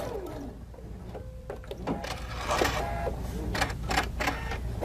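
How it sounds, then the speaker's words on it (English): A sewing machine stitching a ring around a quilt block, a close mechanical whir with clicks and short pauses as the fabric is turned, running steadily without any talking. "And I'm just going to sew."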